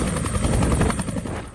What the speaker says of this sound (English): the cadets were transported by chopper from Situm to Unitec.